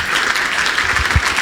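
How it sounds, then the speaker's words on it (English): Loud, dense audience applause welcoming the board chairman at an awards ceremony, continuous and close throughout with no talk over it. "please, a big round of applause and welcome for AZBio's chairman of the board"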